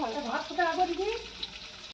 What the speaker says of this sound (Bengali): তো পটলটা একটু ভেজে নেওয়া হচ্ছে